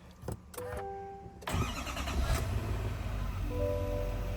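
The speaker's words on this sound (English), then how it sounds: "So we're gonna shut the truck off. And we're gonna start it back up again." After a few dashboard chimes, a Chevrolet Silverado/GMC Sierra Duramax L5P diesel truck with a new fuel filter cranks briefly and fires, settling into a steady, clattering diesel idle heard close up.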